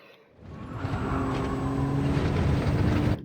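A Nissan R34 Z-Tune engine at full throttle in a racing video game on a Kyoto circuit lap: a steady, loud, droning engine note that swells in after a brief quiet start and holds alone to the end.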